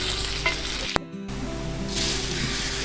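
Close, steady frying sizzle of pork cracklings in a pan, a dense crackling hiss that briefly cuts out partway through before resuming.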